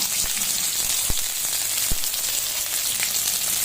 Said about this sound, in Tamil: காஞ்ச மிளகா போட்டு வதக்கிடலாங்க. அடுத்து ஆஞ்சி வச்சு புளியை போட்டுடலாம்.